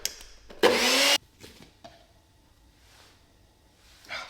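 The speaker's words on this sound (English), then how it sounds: "We're gonna just put it in our NutriBullet." A NutriBullet blender whirs loudly in one short burst of about half a second, followed by quiet clatter and handling sounds.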